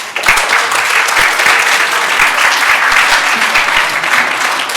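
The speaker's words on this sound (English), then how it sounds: "give you a round of applause" Steady, loud applause from a recital audience in a church hall after a piano recital, dense continuous clapping that holds for the whole stretch without a break.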